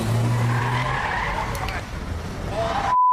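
A stolen car driving with its tires skidding, a sustained loud screech over a rumbling engine that carries on for about three seconds before cutting off abruptly.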